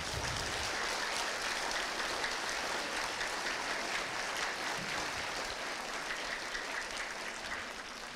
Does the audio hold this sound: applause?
yes